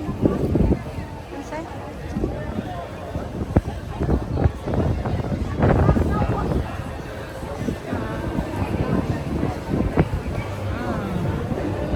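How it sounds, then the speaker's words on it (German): Strong wind roars steadily across the microphone, buffeting and rumbling throughout, with a voice faintly audible beneath, aboard a boat on the Spree River in Berlin. "Schön windig."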